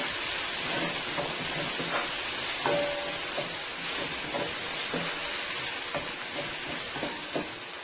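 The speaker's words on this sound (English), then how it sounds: "I'm going to go ahead and saute this for about 2 to 3 minutes" Onion sautéing in a pan, giving off a steady, close sizzle and hiss with faint stirring scrapes on top.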